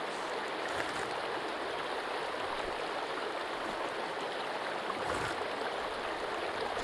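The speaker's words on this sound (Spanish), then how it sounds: "El sonido del agua parece como calidad de GameCube." Water flows steadily in Sons of the Forest, a constant close, hissing rush that stays even from start to finish with no other sounds.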